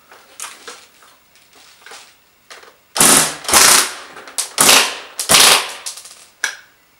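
A custom airsoft P90 fires in several full-auto bursts, each loud, sharp and close. Short gaps separate the bursts, and quieter mechanical handling noises come before them.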